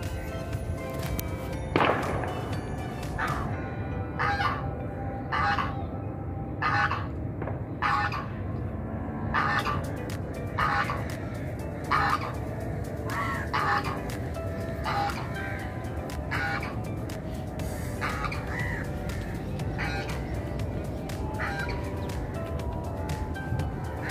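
Ducks in a family park at Talami Bagh, Pakistan, give repeated short calls at a steady rhythm over a constant outdoor background hum. The calls are moderately close.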